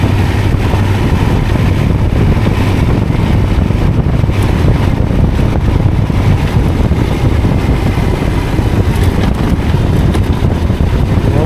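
Cold wind gusts across a mountain road on Madran Mountain, a loud, continuous buffeting roar battering the microphone throughout, with no talk.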